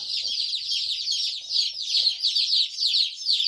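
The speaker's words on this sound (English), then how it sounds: "So chickens have arrived and they're in their new coop or brooder." Young chickens, a mix of meat birds and laying hens, chirp and cluck steadily in a brooder coop, a dense continuous chorus of high peeping with faint low thumps beneath.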